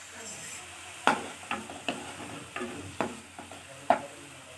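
Onions sizzle in a pan for an Assamese rohu fish curry with sesame, under a steady low hiss. About six sharp stirring scrapes and knocks land at irregular intervals, close and fairly loud.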